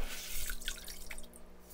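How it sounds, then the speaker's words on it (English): Aquarium gravel and water trickle through hands back into a tank, a soft wet patter of drips and small splashes, close and fairly quiet over a low hum. "picking it up and letting it siphon through my hands the water and just putting it right back into the tank"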